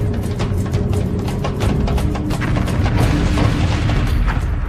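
Desert tank battle with tank and artillery fire, a dense, loud stretch of repeated booms and sharp bursts rolling over a constant low rumble with no pause.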